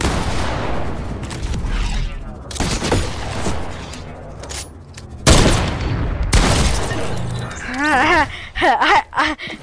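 Hunting rifle shots in the video game Fortnite, loud sharp cracks and booms scattered through a chaotic firefight, with players shouting and talking over the shooting.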